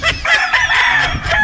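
A red rooster crows loudly and close by in one long, strained call that fills the moment.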